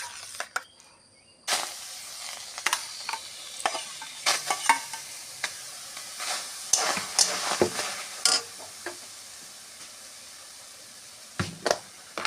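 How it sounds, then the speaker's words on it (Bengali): Mashed mango going into a hot wok for mango jelly, then stirred with irregular scraping strokes over a steady background sizzle, close up with no talk. "এবার ঠাসা আমগুলো কড়াইতে দিয়ে দেবো।"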